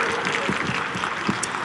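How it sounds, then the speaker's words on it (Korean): An audience at an autumn outdoor music concert gives a short burst of dense, steady applause as a female trot singer is introduced, with a faint voice mixed in. "박수 주세요."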